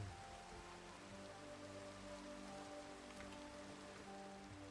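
Rain falls steadily in the video game Minecraft, a soft continuous patter with a low hum beneath it and no voices.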